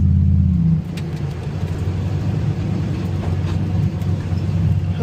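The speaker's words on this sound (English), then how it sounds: "That Mustang is fast." Ford Mustang at speed on a race track during a track day, a steady broadband engine and road roar that dips slightly after the first second and then holds, fairly close.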